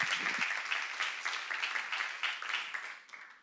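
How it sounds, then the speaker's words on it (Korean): Church congregation applauding during a sermon seminar, a steady wash of many hands clapping that carries on for several seconds before tapering slightly at the end. "박수로 하시죠."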